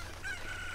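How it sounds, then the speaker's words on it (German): A chicken in the video game Zelda: Ocarina of Time gives a short, thin call over steady game background noise. The call is fairly faint and sounds more like crowing than clucking. "Jetzt brauchen wir noch ein zweites Mal das Huhn."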